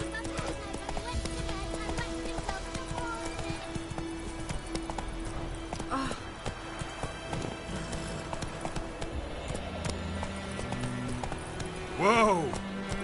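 Roach the horse from The Witcher 3 galloping with rhythmic clip-clop hoofbeats, near and steady under a voice, with a brief whinny near the end.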